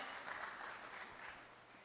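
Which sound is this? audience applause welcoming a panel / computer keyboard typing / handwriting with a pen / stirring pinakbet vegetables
audience applause welcoming a panel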